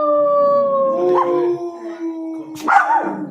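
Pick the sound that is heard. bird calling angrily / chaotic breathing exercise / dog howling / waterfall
dog howling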